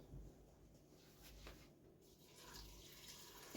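Soft, steady stream of water poured into a pot for pea soup in a home kitchen, a faint continuous wash with slight swells.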